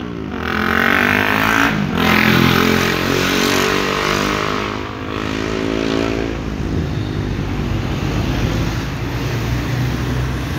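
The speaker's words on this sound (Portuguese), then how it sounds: "O Audi R8, esse aqui de primeira geração, com o motor V10." A first-generation Audi R8 mid-engine sports car's V10 revs up loudly nearby, its pitch rising and falling before settling into a steady, throaty drone.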